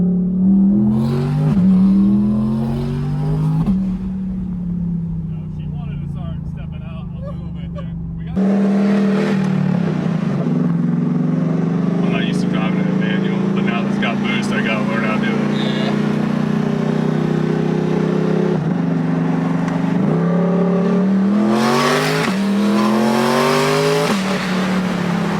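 Twin-turbo C8 Corvette accelerating hard, its engine note climbing through the gears with loud, close revving and brief drops between shifts, while voices talk over the roar.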